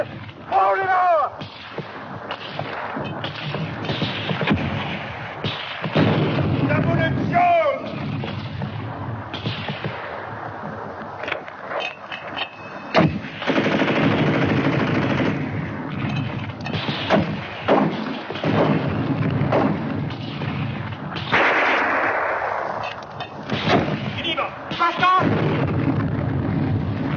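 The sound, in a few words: gunfire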